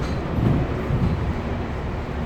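Inside a Northern Railway Class 156 diesel train running between Sunderland and Heworth, a steady low rumble and rolling wheel noise fill the carriage at a constant level.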